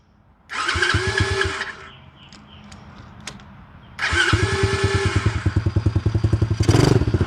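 A cheap Chinese 110cc dirt bike engine starts up loud and close, settles into a rough idle for a few seconds, then revs again with a rapid pulsing throttle burst at the end.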